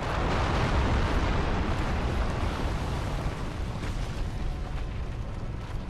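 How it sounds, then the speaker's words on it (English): Firestorm spell explosions in Dark Souls during a Bed of Chaos boss fight make a continuous roaring, rumbling blast with crackling eruptions that hold a loud, even level throughout. "That looks like Firestorm. That is Firestorm."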